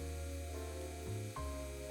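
A rotary tool with a stone bit whines steadily, its pitch dipping and recovering twice as it grinds around the inside of a cosplay sword tsuba, close and continuous.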